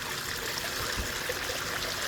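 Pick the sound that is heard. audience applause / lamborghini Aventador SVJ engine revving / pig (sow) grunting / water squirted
water squirted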